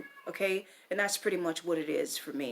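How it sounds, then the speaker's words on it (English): A pet cat meows a few times, its cries mixed in with someone talking steadily close by. "That's my cat making noise."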